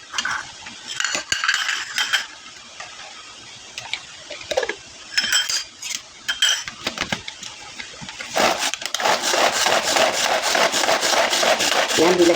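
Knife chopping an onion into rings on a board while making a Filipino vinegar dipping sauce: irregular close, crisp cuts and scrapes, growing denser and steadier toward the end, with light talk in the background.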